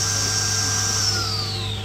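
A Festool CSC SYC 50 EBI brushless table saw spins up with a rising whine that glides and then steadies, accompanied by a steady low hum, loud and close for a couple of seconds.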